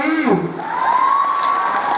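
A school audience at a girls' senior secondary school prize announcement in Chamba claps and cheers, a crowd wash with children's shouts and a sustained whoop rising over the clapping, fairly loud and close.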